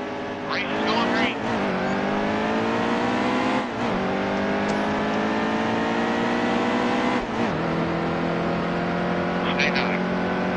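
Several race cars roar together at the green-flag start of a racing video game on PS4, engines revving and rising in pitch as they accelerate from near, with a voice speaking over the continuous loud engine drone.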